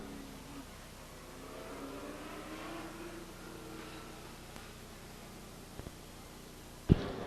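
A race car on the track at Stockton 99 Speedway, run by Bob Stranwald in car number 1 from Modesto, drones and revs at middle distance with an uneven, hitching engine note, ending in a sharp loud thump.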